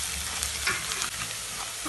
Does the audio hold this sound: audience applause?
no